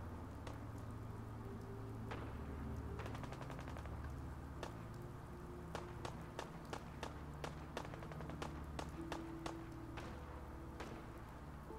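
Gunfire in the video game Fallout 4 comes as a rapid series of faint, sharp shots in quick bursts over a steady low background hum.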